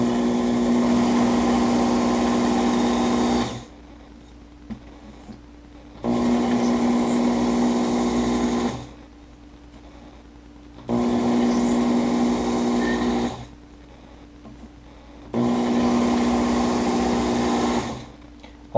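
Work Sharp Ken Onion edition electric knife sharpener grinding a knife blade, four steady whirring motor runs of about three seconds each, separated by short quiet pauses.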